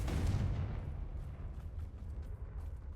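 Fire spell blast in the video game Hogwarts Legacy, a loud booming burst at the start that rolls off into a rumbling, crackling tail with no talk over it.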